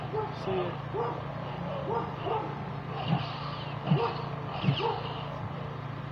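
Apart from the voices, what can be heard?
dog barking in the background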